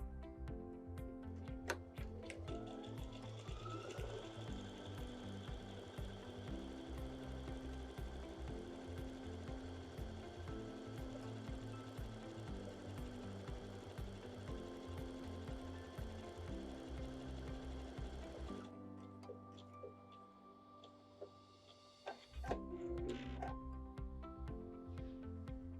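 A Brother BQ950 sewing and quilting machine stitches a buttonhole with steady rapid mechanical whirring, then pauses briefly before starting up again for a short final run.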